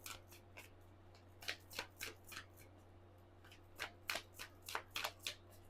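Moonology oracle cards being shuffled, quiet crisp riffling bursts in two clusters separated by a pause, close by over a low steady hum, with no voice.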